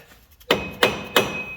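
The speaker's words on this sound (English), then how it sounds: "Hammer." Three sharp hammer strikes on metal at an even pace, each ringing briefly, after a few faint taps, during front axle seal work on a 1988-1999 Chevy Silverado.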